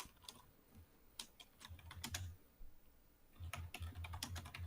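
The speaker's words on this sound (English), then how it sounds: "Hayden, what you typing?" Quiet, close typing on a computer keyboard: irregular bursts of crisp key clicks with short pauses between clusters, and no talking.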